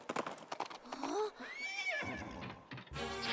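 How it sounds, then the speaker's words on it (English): An old stock horse neigh sound effect in a Princess Peach video game rings out as a long, clear whinny mid-clip, with game sounds and clattering around it and a short burst at the end. "That is such like an old horse sound, and I know that is just like a horse sound effect that's been used forever"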